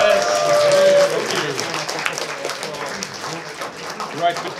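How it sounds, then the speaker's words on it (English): Audience applause for the sound crew at a convention interview panel, a steady wash of clapping from a crowd that gradually thins, with a brief voice and whistle-like tone at the start. "A big applause to the sound guys."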